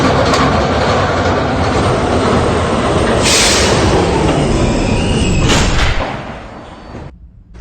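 An R160B D subway train in the PTA Subway game rumbles along at speed, dense loud wheel and track noise with bursts of hiss, then fading abruptly as it slows near the end.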